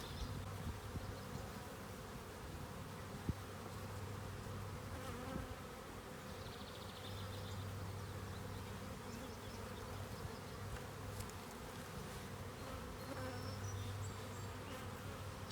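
Dense, steady buzzing from a crowd of honeybees clustered on the front of a hive with its entrance reducer removed, a continuous droning hum that persists throughout with no talking.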